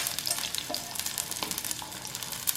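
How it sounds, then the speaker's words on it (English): Chopped shallots fry in hot oil with a steady, continuous sizzle and crackle, punctuated by a few brief stirring clinks, close and moderately loud with no voices. "I'm going to add my chopped shallots also into the oil."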